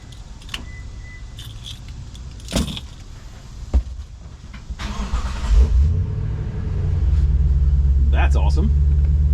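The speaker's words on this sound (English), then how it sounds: "I'll just use the remote start on the truck." A pickup truck's engine is started by remote start, with clicks and key jangles before the engine cranks and settles into a steady low idle rumble in the final seconds.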